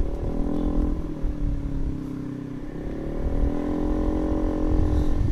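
Motorcycle engine, a Mio scooter, idling and running steadily nearby, a continuous low throbbing drone with slight swells in pitch, heard alone with no talk.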